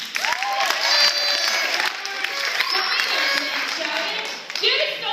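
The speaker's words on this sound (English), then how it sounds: "the crowd understood and gave him some applause" Audience at a Green Team church skit applauding and cheering, a steady wash of clapping and crowd noise lasting throughout, with some shouting voices mixed in.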